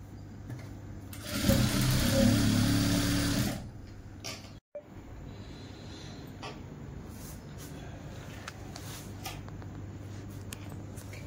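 A sewing machine stitches elastic onto the waistband of palazzo pants in one short loud burst of rapid whirring, then stops, leaving quiet room noise.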